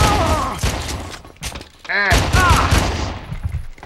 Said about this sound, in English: I take a lot of gunfire.